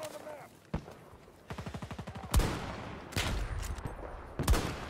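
Gunfire in the Battlefield 2042 video game: a rapid burst of automatic fire followed by several heavy booming shots and explosions, with a voice speaking underneath.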